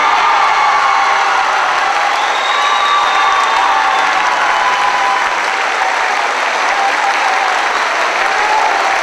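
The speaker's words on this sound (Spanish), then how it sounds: "Primer aplauso para San Sebastián." Sustained audience applause for a carnival queen candidate at a Miss Carnaval finalist election, a dense, steady wash of clapping filling the whole stretch with faint cheers mixed in.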